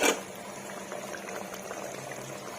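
Biryani korma bubbling and sizzling in a pot as fresh curry leaves are dropped in, a short burst at the start settling into a steady close hiss and simmer.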